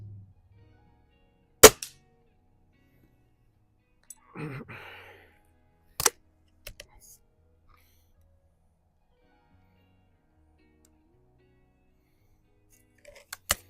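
Cometa 300 air rifle firing at hanging metal targets at a range, a few sharp cracks spaced seconds apart, one followed by a brief rattling clank of a struck target, with long quiet gaps.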